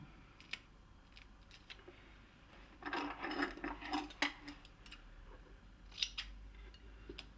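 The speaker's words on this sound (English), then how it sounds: "Cut one of them in half from corner to corner" Scissors snip through double-sided tape while a platen press is set up, with several close, crisp cuts clustered in the middle and a few isolated clicks and rustles around them.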